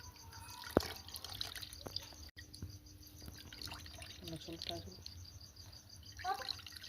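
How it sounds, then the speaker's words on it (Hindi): Leaf juice drips and trickles from a cloth squeezed tightly by hand. Soft, irregular drips sound close by among outdoor background noise, with voices talking nearby. "इसको टाइट करके दबाने पर सारा ही रस निकल जाएगा, वेस्टेज इस कपड़े के अंदर रह जाएगा।"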